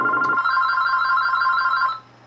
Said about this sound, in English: God, I'm tired of this phone always making these annoying rings.